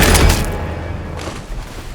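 A loud, booming gunshot bursts out in a tense film scene, its heavy blast rolling into a dense, reverberant tail that decays across two seconds, with no voice over it.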